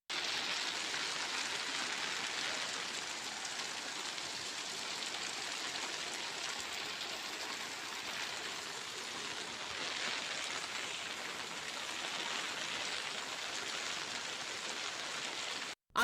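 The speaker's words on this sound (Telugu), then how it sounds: "బచ్చన్నపేట మండలాల్లోనూ వాన కురిసింది" Unseasonal rain pours steadily onto a market yard as a dense, even hiss that stays constant and close throughout, with no voices.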